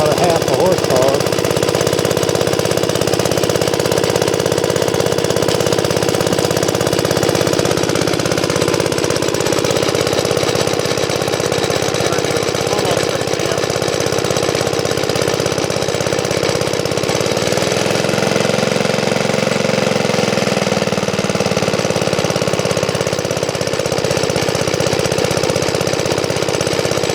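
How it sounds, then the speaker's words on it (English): A small Briggs & Stratton engine of about half a horsepower drones steadily and loudly at close range throughout, with a rough knocking hum that wavers slightly in pitch partway through. "I think these little Briggs are only about a half a horsepower."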